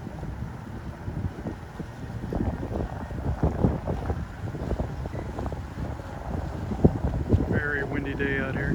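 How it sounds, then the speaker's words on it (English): Strong wind buffets a microphone aboard a 2016 Sportsman Open 312 boat, a continuous low roaring rumble with gusty swells, while someone talks over it. "Very windy day out here."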